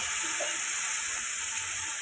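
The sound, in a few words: onion paste and spices frying in oil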